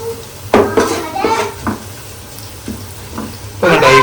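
Onions frying and browning in a pan for a chicken liver curry, close sizzling with spatula scrapes and clinks, and brief talk nearby.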